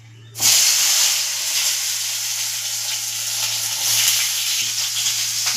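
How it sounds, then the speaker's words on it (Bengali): Eggplant drops into hot oil and sets off a loud burst of sizzle that settles into a steady, close frying hiss with faint crackles, over a low constant hum. "আগে আমি বেগুনটা ভেজে তুলে নিই।"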